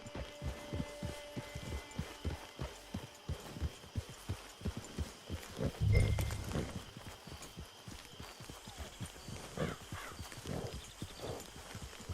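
Horse hooves clip-clop in the video game Red Dead Online, a steady rhythmic trot of fairly quiet, evenly spaced hoofbeats with a brief louder thump midway.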